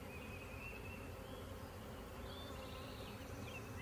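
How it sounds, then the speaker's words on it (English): A swarm of honey bees fanning their wings at a hive entrance makes a soft, continuous buzzing drone, faint but steady, with occasional individual bees whining past. "These bees right here are fanning their wings"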